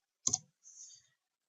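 Computer mouse clicks at a desk while working in bridge modelling software, a quick close double click followed by a fainter soft scrape or release, then silence.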